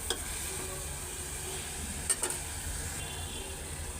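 Small fish frying with spring onion stalks in a pot, a steady soft sizzle and stirring scrape running throughout, with a couple of brief utensil clinks near the middle and no talking.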